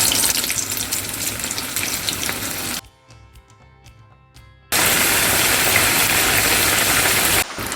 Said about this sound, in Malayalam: ഓയിൽ ചൂടായി വന്നിട്ട് നമ്മൾ ഇനി ഓരോ വടയായിട്ട് ഇതിലേക്ക് ഇട്ട് കൊടുക്കാൻ